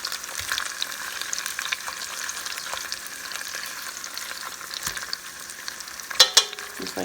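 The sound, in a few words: oxtails browning in pan, being turned over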